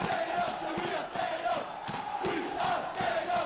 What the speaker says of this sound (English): cheered on by a very noisy crowd